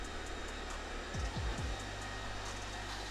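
A Roidmi Eve Plus robot vacuum runs a zigzag cleaning pattern, giving a steady, faint, airy motor whir close by, with a few low falling swoops as it turns, and no talking.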